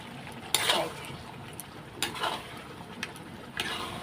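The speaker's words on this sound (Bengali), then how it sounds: "এখন কিছুক্ষণ কষিয়ে নেব মাটনগুলো" Mutton being sautéed with spices in a pot, faint and low, with a steady soft sizzle broken by three scraping stirring strokes of a spoon against the metal.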